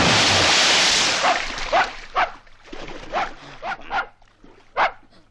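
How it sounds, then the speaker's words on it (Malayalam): A dog barks repeatedly at close range, a series of sharp separate barks at irregular intervals following a burst of splashing noise. "പട്ടിയായിരുന്നു."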